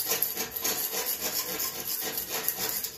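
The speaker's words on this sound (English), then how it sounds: "there's some loose paint here and rust that I get off" Loose paint and rust being scraped off a 54-inch John Deere Z445 zero-turn mower deck: steady, close, rhythmic rasping strokes with no voices.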